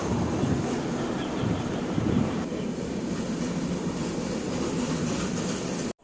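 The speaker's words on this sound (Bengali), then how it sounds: "এই যে ট্রেনটা গেল এই ট্রেনটার পরেই আমাদের ট্রেনটাও চলে আসবে" A train rumbles past at a quiet railway station, a loud continuous roar with wind buffeting the microphone, steady for several seconds before cutting off abruptly.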